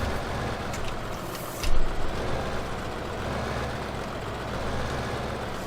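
A tractor engine in Farming Simulator 2015 runs at a steady idle, a constant low drone that swells briefly with a louder mechanical burst before settling back to an even hum.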